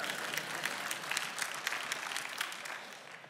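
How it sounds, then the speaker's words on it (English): A church congregation claps steadily for a few seconds, a moderately distant patter of many hands without talking. "you can go ahead and clap"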